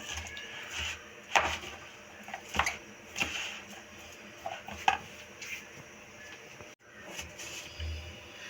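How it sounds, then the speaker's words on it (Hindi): A spoon scrapes and knocks in a bowl while pakora batter is mixed with spices, a few irregular clinks and stirring scrapes at close range, fairly quiet, with no talking. "इसे अच्छी तरह से सब चीज़ों को मिक्स करेंगे"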